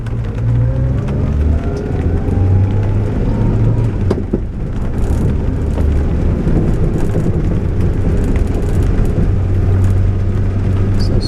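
A Subaru Sambar drives along with a steady, loud engine and road drone throughout, low rumble dominating with slight pitch shifts as it moves, and no one speaking.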